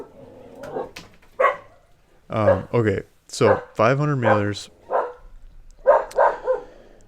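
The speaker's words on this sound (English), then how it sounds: "And there goes my dog." A dog barks a few times in the background while someone talks over it close to the microphone.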